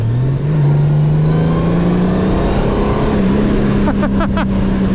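Honda Goldwing motorcycle in Sport mode, its engine droning steadily at held revs with the pitch slowly climbing, close and loud, then a brief shift-like dip.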